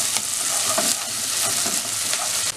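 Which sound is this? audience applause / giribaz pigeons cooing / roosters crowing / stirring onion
stirring onion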